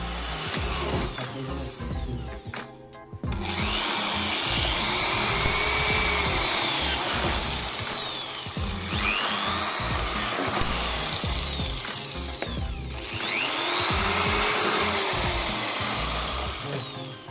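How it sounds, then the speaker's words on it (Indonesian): An electric drill whines steadily at close range, boring holes for a homemade aquarium filter, its pitch rising and falling, with brief pauses between runs. "Pakai bor lubanginnya ya."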